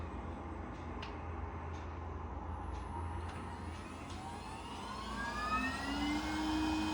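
A window-cleaning robot runs its vacuum suction motor with a steady whining hum that rises in pitch and grows louder toward the end, heard close and alone.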